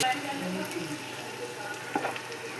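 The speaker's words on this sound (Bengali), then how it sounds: "তেজপাতা, শুকনো লঙ্কা দিলাম, তারপরে কাঁচা লঙ্কা, পেঁয়াজ খুব সুন্দর করে ভেজে নেব" Bay leaf, dried and green chilies and onion frying in oil, a steady crackling sizzle with a brief stirring scrape near the end.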